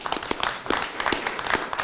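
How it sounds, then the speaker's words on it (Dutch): A gathered crowd claps for newly appointed aldermen and a first coalition agreement, a brief burst of scattered, fairly close applause from many hands at moderate volume. "Ik wil er een applaus voor hebben."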